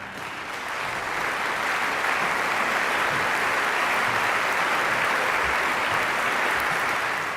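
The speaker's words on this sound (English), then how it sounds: "everyone applauding the conductor" An opera audience applauds the conductor's entrance at the Al Wasl opera performance at Expo 2020 Dubai, with dense, steady clapping that swells in the first second and holds loud and even throughout.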